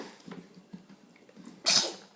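A single sharp sneeze bursts out near the end after quiet rustling and soft breaths, close to the microphone.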